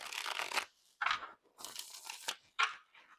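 A tarot card deck (Tarot of the Longest Dream) being shuffled by hand, giving several close, crisp bursts of riffling card noise separated by short pauses, with no talking.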